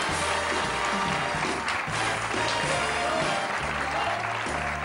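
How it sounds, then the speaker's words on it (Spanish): A television studio audience claps loudly and continuously for a guest, with music playing underneath throughout. "Un fuerte aplauso, ahora sí, Carmen Jara."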